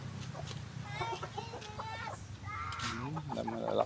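Hens clucking on a Filipino backyard poultry farm near a laying nest, with several short calls scattered across the clip over a busy background of other birds and faint voices.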